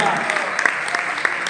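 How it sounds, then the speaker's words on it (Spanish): Audience applause at a theatre festival judging night, a steady dense clatter of many hands clapping from start to finish with no talk. "fuerte los aplausos para Arturo"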